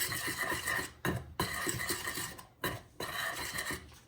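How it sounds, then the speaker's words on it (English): Cherry brownie batter with salt is beaten in a bowl, a close, continuous scraping and clattering of utensil against the bowl, broken by a few brief pauses. "we're going to give that a good mix"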